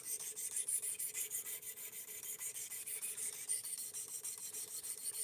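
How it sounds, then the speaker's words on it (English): An Elmax steel knife blade is drawn repeatedly across a sharpener, a faint, even series of rasping strokes in a steady rhythm, close and without talk. "Yes, Brando, second time we're sharpening."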